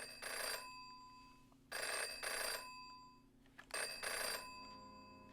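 An old-style telephone bell rings in the video game Jenny LeClue, three long bursts separated by short pauses, clear and fairly quiet with no talk.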